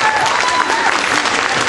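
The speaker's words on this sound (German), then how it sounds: "Und deswegen nochmal einen dicken, fetten Applaus" Dense, loud applause from a crowd at a DJ event, with continuous close clapping filling the whole short moment.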